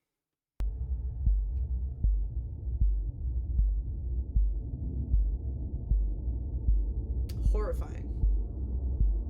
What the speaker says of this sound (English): which is literally just a heartbeat